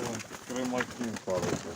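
Young Mykolaiv pigeons coo in short throaty bursts close by, while someone speaks over them.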